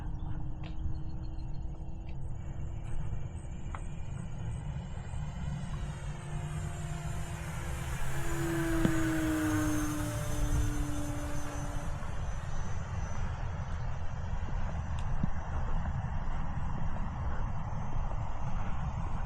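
Eflite 1.3-meter Piper Cherokee RC airplane with LED lights, a steady electric-motor drone whose pitch rises and falls as it makes a close pass overhead, under constant wind noise outdoors with no talk.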